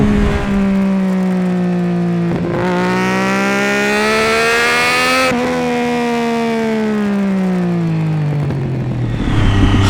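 A Triumph Daytona 675 sport motorcycle revs hard on a twisty road, its engine note climbing and falling through gear changes, loud and close throughout with a steady high-pitched whine.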